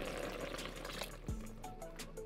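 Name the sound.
water being poured into kimchi stew pot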